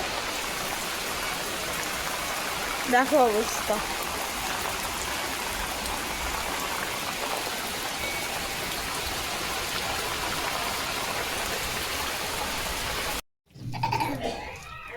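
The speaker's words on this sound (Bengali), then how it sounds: "দেখো মুষলধারে বৃষ্টি এসে গেছে" Heavy rain pours steadily outside, a dense, constant hiss of drops on surfaces that fills the whole scene; a voice speaks briefly near the start and the sound cuts off abruptly near the end.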